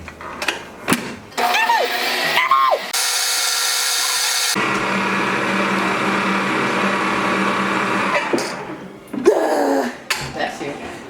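An electric mixer whirs steadily for several seconds, blending brown sugar until it melts for Guyanese black cake, with kitchen handling noises and people chatting before and after the motor runs.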